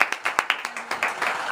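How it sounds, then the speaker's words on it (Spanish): A small studio audience claps for two women who are contest winners, a short burst of distinct, uneven hand claps close by that blur into quicker clapping toward the end. "Un aplauso para ellas."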